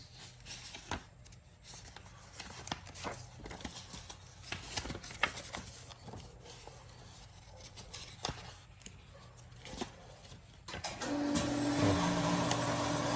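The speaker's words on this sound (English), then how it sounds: "Sorry about the noise, guys. My sprinkler system just kicked on." A rapid ticking, spraying hiss from a sprinkler system runs steadily, growing louder and fuller toward the end.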